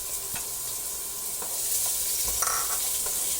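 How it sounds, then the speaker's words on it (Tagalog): Onions sautéing in hot oil in a pan give a dense, constant hiss of sizzling, with a few soft stirring taps. "magigisa po tayo ng sibuyas, bawang at kamatis. Unahin po natin ang sibuyas."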